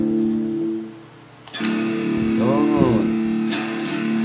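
Electric guitar played through a distortion preset on a Mooer GE200 multi-effects unit, heard alone as a loud, saturated sustained chord with a bent, wavering note in the middle and a fresh attack near the end.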